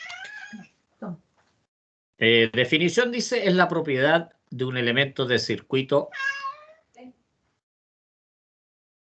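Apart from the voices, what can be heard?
cat meowing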